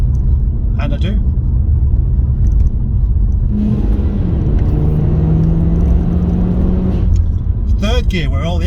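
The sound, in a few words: Nissan Juke NISMO RS engine while driving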